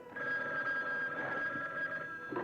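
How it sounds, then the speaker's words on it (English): A telephone rings continuously in a tense TV commercial, a thin trilling electronic bell tone held steadily at moderate volume over a soft background bed. "Don't answer the phone."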